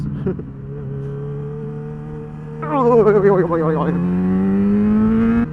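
A motorcycle engine on an open road, droning steadily near the mic, then revving up sharply with rising pitch partway through before settling into a higher cruising hum.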